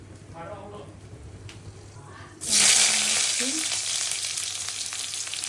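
Dried red chillies, cardamom and cinnamon dropped into hot oil with cumin, a sudden loud hiss of frying that starts partway through and keeps sizzling steadily, preceded by quieter kitchen noise and a voice speaking.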